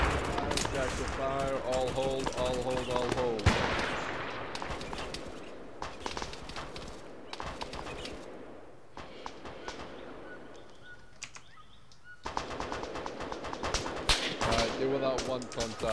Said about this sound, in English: Those shots are going close.